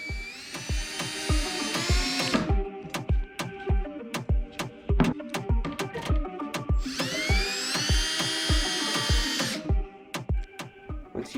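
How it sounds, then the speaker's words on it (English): A power drill drives beams into a wooden board while building a bike stand, sounding as two long, loud whining bursts with many sharp clicks and knocks in between, close up and alone. "you're going to want to flip the board back over and drill them in."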